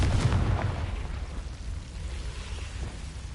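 A Confringo blasting spell explodes in the Hogwarts Legacy video game, a booming low burst at the start that rolls off into a long rumbling decay, loud and close with no talk.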